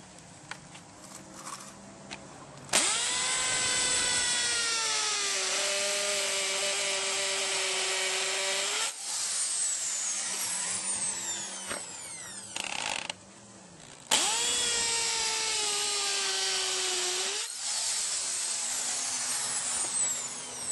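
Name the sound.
hammer drill drilling into concrete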